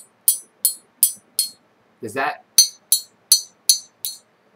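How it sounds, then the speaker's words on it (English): A key tapping a brass or bronze-looking metal elephant figurine, giving a rapid series of bright metallic clinks, close and crisp, with a brief spoken interruption partway through. "It sounds like this when a key is hit against it."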